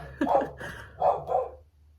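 A puppy gives three or four short, close barks in quick succession, with a brief pause between the first and the later ones, alone with no talk.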